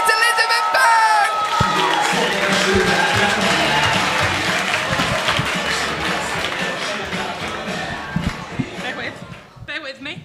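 A crowd applauds and cheers as a performer's act is introduced at a live show. The clapping is loud and sustained, with excited voices throughout, then tapers off near the end.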